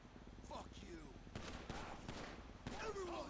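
Gunfire in GTA V NoPixel roleplay: several sharp shots crack out in a few clusters, moderately distant, under game ambience and occasional voice chat.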